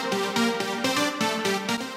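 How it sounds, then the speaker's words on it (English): A bright, buzzy analog-style synthesizer plays a rhythmic pattern of short repeated chords, close and loud, with no voices. "taking a synth sound like this"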